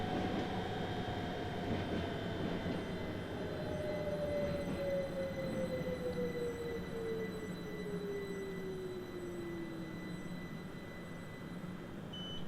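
A BR Class 66 diesel freight locomotive pulls away from a North London Line location, its engine a steady loud rumble with a slowly falling whine, continuous and close, with no talk over it.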